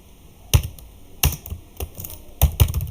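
Keys tapped on a computer keyboard while typing Rails routes code, a handful of crisp, close clicks spaced irregularly over a quiet room, with no voices.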